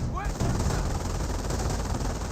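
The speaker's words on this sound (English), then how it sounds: "We do have the Bren gun getting suppressed by the MG42." Rapid MG42 machine-gun fire from the Company of Heroes video game, heard as a dense, continuous roar of automatic shots that fills the whole stretch at steady loudness, with battle noise layered underneath.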